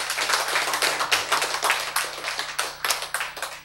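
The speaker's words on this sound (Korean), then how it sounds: "박수!" A church congregation claps during a Korean sermon, with many hands striking in a fairly rhythmic, closely spaced pattern of sharp claps that stays near and loud throughout.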